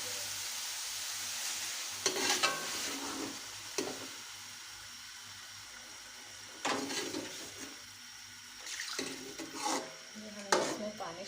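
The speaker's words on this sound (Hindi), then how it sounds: "हमने इसमें पानी शामिल कर दिया, तकरीबन 1 गिलास पानी हमने इसमें शामिल कर दिया।" Aloo chicken curry with softened tomatoes simmers and sizzles in a pan as about a glass of water is added, with bursts of stirring and splashing over a steady frying hiss.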